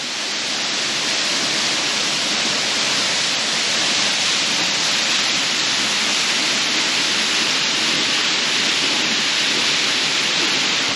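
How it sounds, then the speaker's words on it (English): Waterfall beneath a rope bridge on the Mürren via ferrata, a loud, steady broadband rush of falling water, constant and unbroken. "we've got this cool waterfall with a rope bridge over the view"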